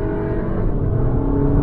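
A 310 PS Cupra Formentor engine revving as it downshifts to third gear, a steady, close, throaty drone that holds loud for under two seconds inside the car.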